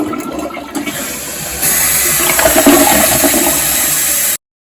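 Close and loud, a Kohler Wellworth toilet with a 2-inch flapper valve and longer-arm flush lever flushes in a strong surge of rushing, gurgling water that swells after a brief start and cuts off sharply.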